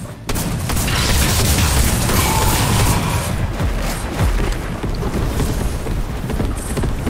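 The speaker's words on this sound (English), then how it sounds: "I heard an airstrike." Airstrike explosions in a Fortnite trio no-build match, a continuous rumbling barrage of deep booms and blasts with wind-like roar running through the whole stretch.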